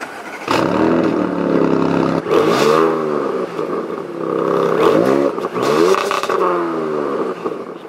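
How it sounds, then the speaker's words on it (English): A 2020 Audi S7's sports exhaust revs repeatedly, several throaty rising and falling blips of the engine, loud and close, with no talking. "this does come with the sports exhaust"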